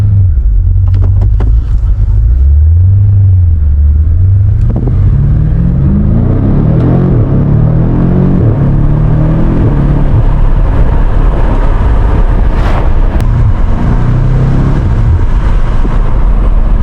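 A BMW M5 Competition engine on backroads swings through a quick U-turn, its deep exhaust rumble rising and falling in pitch as the car accelerates out, loud and continuous throughout with no talk.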